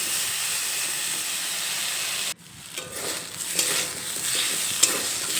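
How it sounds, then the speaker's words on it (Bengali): Potato pieces fry with salt and turmeric in a wok, giving a close, steady sizzle and hiss. A brief break in the sound is followed by scraping stirring noises as the frying continues. "এখন নেড়ে চেড়ে লবণ আর হলুদ গুঁড়ো আলুর সঙ্গে মিশিয়ে নেব"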